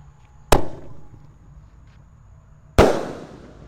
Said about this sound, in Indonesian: Lanjut di sini ada mercon Elang Mas bosku. Ini pelontar belusnya 2 kali di bawah dan di atas ya.